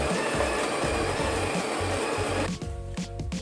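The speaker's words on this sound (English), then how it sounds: "I think it's safest that I actually grind my own coffee beans." Coffee beans are ground in a motorized grinder, giving a steady, close, whirring rasp that sputters and stops about halfway through, then rattles briefly.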